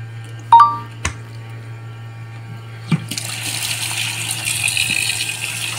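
A few clinks and knocks in a kitchen sink give way to tap water running steadily as squid are washed, a moderate gushing rush without speech.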